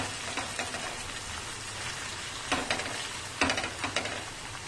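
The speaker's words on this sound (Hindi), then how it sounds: "कीमे को हम थोड़ी देर फ्राई करेंगे" Chicken mince frying in a little oil in a pan, a steady faint sizzle with a few sharper bursts of crackle as it is stirred, heard alone.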